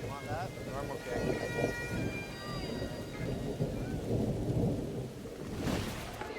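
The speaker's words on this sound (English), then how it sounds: "the skies open and down comes the dreaded rain" Heavy rain pours down outdoors at a wedding, hissing steadily. Rolls of thunder rumble low beneath it and surge louder at times, and faint voices can be heard in the background.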